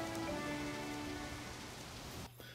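Steady, dense rain patters on surfaces in the video game Harvest Moon: Animal Parade, a constant close hiss that thins briefly near the end.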